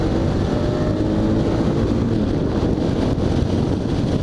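Steady wind roar and engine drone from a 2019 Suzuki V-Strom 650XT motorcycle being ridden at speed on a road, loud and continuous with no gaps.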